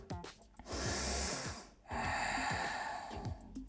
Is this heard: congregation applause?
no